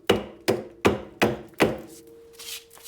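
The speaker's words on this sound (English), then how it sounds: "I'm just gonna knock it free." A hammer knocks rust buildup off the steering knuckle of a 2002-2007 Jeep Liberty during a front wheel bearing job, five sharp, evenly spaced metallic whacks up close, followed by a faint ringing and light scraping.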